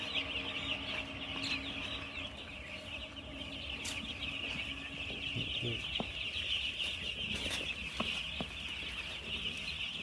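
Broiler chickens in a poultry shed cluck softly and steadily, with occasional sharper calls rising over a constant background hum of the enclosure.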